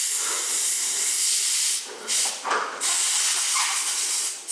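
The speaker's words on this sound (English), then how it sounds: "I'll just gently blow some compressed air through that." Compressed air blows through an oil part from a 2021 KTM 690 Enduro R during an oil change, a loud, close hiss in short bursts with a few brief breaks.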